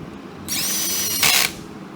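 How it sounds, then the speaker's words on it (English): Cordless drill turning a bolt during a Nissan 3.5 L V6 timing chain job on an Altima, a close high-pitched whir of about a second that rises briefly in a harsher burst before stopping. "You use a cordless drill, makes the job quicker."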